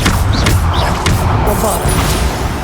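Bombarda spell explosions in Hogwarts Legacy go off amid dense, busy combat noise, with crashing impacts and whooshes layered over a constant low rumble and a voice partly heard underneath.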